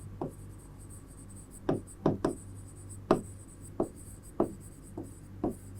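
Chalk or marker writing on a board in a chemistry class: a series of short, distinct taps and strokes at an irregular pace, close and clear over a faint steady hum, with no talking.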